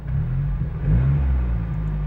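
A Mazda MPS engine with a newly fitted exhaust revs loudly and steadily up close, its deep low-pitched drone swelling slightly midway and holding strong throughout, with no talking.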